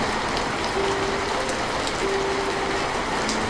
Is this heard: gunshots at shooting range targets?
no